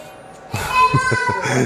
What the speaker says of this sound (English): the toddler in the background